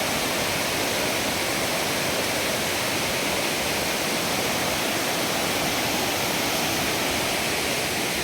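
Thirparappu waterfall roars in a continuous, dense wash of falling water, loud and steady with no break.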